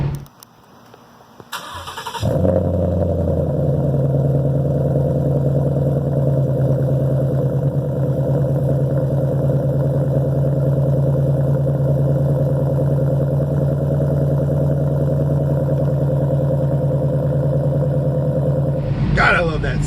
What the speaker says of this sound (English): we went ahead and we got the MBRP 3-inch race catback exhaust